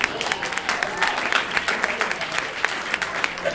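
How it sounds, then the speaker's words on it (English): Sustained applause from an audience at a college tour screening event honoring a group and its director, dense bright clapping with faint crowd voices. "Let's give them a round of applause"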